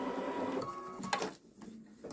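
A Babylock Solaris embroidery machine stitches a t-shirt with a fast, steady mechanical whirring and chattering that runs close and loud throughout, easing off briefly near the end.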